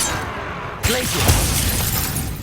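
Ice spell shattering in the video game Hogwarts Legacy: a sudden loud crack and burst of breaking ice and glass-like debris partway through, set over dense, loud game noise.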